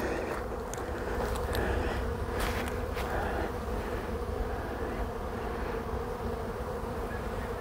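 A dense, steady buzz of many honey bees at an open hive frame fills the air, close and continuous, with a few sharper individual buzzes passing by.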